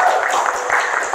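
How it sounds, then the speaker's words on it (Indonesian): An audience at a stand-up comedy event in Tarakan breaks into dense, steady applause that carries through the short moment. "Tepuk tangan yang meriah teman-teman buat Vicky Alvarez."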